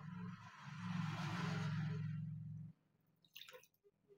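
Water is poured into a bowl for bakery-style kulcha dough, a steady splashing stream for a couple of seconds before stopping, followed by a few soft drips and clinks.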